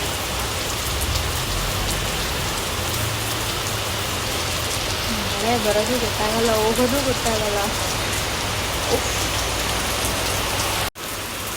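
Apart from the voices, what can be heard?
sudden heavy rain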